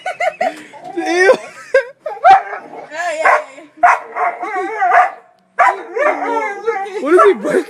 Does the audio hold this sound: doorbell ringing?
no